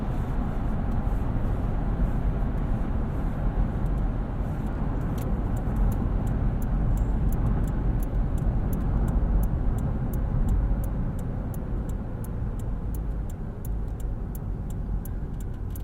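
Interior of a 2017 Toyota 4Runner TRD Off-Road on the move, a steady low road and engine rumble filling the cabin with a faint regular ticking, likely the turn signal, over the back half, no one speaking.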